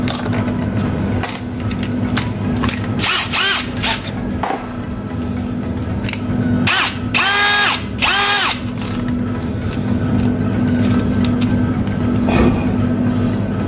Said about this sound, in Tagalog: Nagamit tayo ng stainless steel